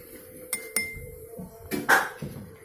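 A metal spoon clinks against a drinking glass several times as ground coffee is spooned in, a few sharp separate taps spread over a couple of seconds with quiet gaps between them.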